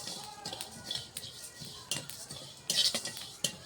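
Fennel seeds and spices are dry-fried in a pan for pickle masala, with a metal spoon scraping and clinking against the pan in quick, irregular strokes close by.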